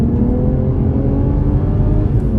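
Toyota GR Supra accelerating, a loud continuous engine rumble and whir heard from inside the car, steady and building with no voices.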